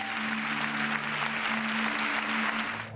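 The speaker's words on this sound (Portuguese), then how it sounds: "o minuto de silêncio foi interrompido pelos aplausos" A stadium crowd at a football match applauds through a minute of silence, a broad, steady roar of clapping from many hands that holds evenly throughout.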